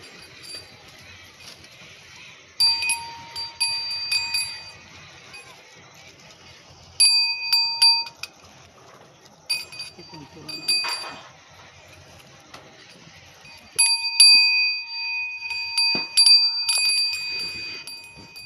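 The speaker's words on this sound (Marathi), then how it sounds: "घंटी बांधतोय मी" Small metal bells tinkle and ding in several bursts as they are tied onto a pair of bullocks, with quiet gaps between the jingling spells.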